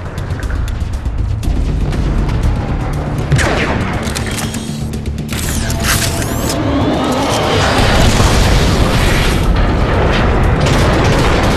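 Heavy booming blasts and rapid cannon fire from the video game Transformers: Fall of Cybertron roll over a loud, busy mix of mechanical noise and sweeping whooshes. The noise stays dense throughout.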